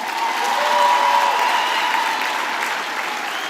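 Sustained applause from a graduation ceremony audience honoring first-generation graduates, a dense steady wash of many hands clapping at moderate loudness, swelling slightly then easing off over a few seconds.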